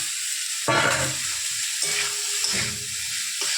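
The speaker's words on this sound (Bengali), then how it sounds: "এই যে মশলাটা হাফ আমি কষিয়েছি এর মধ্যে আমি পনিরগুলোকে অ্যাড করে দেব" Paneer pieces tossed into a half-cooked mustard masala sizzle loudly in hot oil, with a sudden burst of frying as they go in, then scraping stirs against the pan and no voices.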